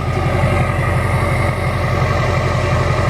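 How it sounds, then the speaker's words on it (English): A 2007 GMC Sierra 2500HD's 6.6L Duramax LBZ turbo diesel runs close by with a deep, loud, steady exhaust rumble and pulsing engine note, no talking. "Sounds great when you rev it."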